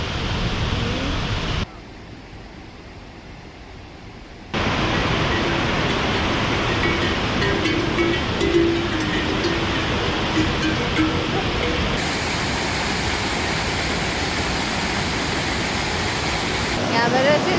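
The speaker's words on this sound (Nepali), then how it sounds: "यहाँबाट चाहिँ यस्तो खोला बगिरहेको।" A mountain river rushes along the Langtang Valley trek in Nepal, a loud, steady, broadband roar that briefly drops in level early on before swelling back to a continuous wash.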